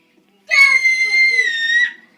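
A young girl lets out a single sustained high-pitched scream lasting over a second, loud and close, after a brief moment of quiet, with no talking over it.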